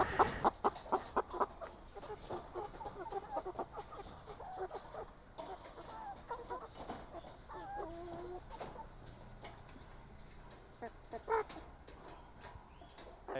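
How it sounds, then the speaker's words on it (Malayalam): Chickens clucking in short, scattered bursts nearby, with a few sharper calls mixed in over a faint background. "അവിടെ കുറച്ച് കോഴിയുണ്ട്"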